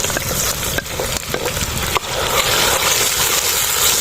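Tomatoes hit a hot pan of shalgam gosht, meat cooking with turnips and green chilies, giving a loud, steady sizzle and frying crackle with a few stirring scrapes and bumps, close up and without talk.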